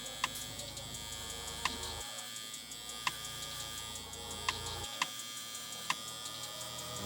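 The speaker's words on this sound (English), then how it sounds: "I'm gonna go ahead and ball them out with the clipper so y'all can see how it balls out" Stylecraft Rebel hair clipper with a quiet motor running steadily, a low, even electric hum with faint periodic ticks, close and unaccompanied by speech.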